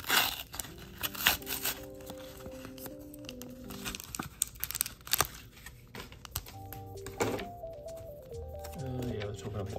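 A Yu-Gi-Oh card blister pack is worked open by hand, its stiff plastic crinkling and tearing in close, irregular bursts with a voice nearby.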